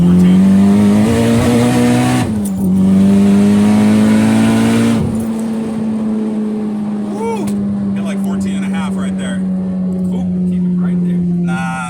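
A turbocharged K24 Acura RSX accelerating hard on the road, its engine note rising steadily and loudly from inside the cabin, dipping briefly at gear shifts, with people talking over the roar.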